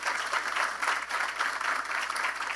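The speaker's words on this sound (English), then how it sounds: "Let's give him a round of applause." Steady audience applause at a conference on affordable medicines, moderately loud, even clapping throughout with no talk over it.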